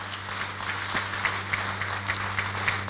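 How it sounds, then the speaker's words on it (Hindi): An audience at a business meeting gives applause for Surendra Kumar in a large hall, with scattered claps over a steady roomy background hum and no voice over it. "सुरेंद्र कुमार जी के लिए एक जोरदार ताली चाहता।"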